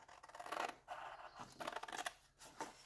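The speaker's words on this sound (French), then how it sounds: "c'est que je vais venir découper" Sides of a cardboard box are being cut, giving quiet, close scraping and snipping strokes in short uneven bursts.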